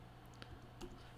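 Keyboard typing during a wrestling match broadcast, a few scattered, fairly faint key clicks with pauses between them, alone with no talking.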